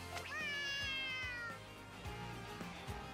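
A lost cat in a video game meows loudly and close, with one long, high, wavering cry over game music and background effects, then quieter sounds fading out.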